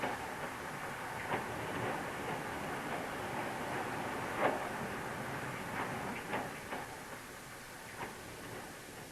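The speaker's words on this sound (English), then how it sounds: "A clay train down from Torrington along the Tor" A clay freight train from Torrington rumbles along steadily at a distance in 1970s North Devon, with faint rhythmic clicks of wheels over rail joints.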